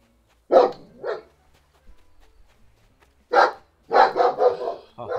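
A dog barks in the video game Animal Crossing: New Horizons: two quick barks, a pause, then a faster run of four or five barks, clear and close.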